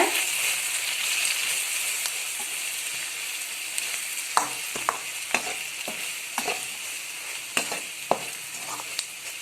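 A spatula scrapes and stirs vegetables sizzling in a frying pan, with irregular clinks and scrapes over a steady sizzle, close by.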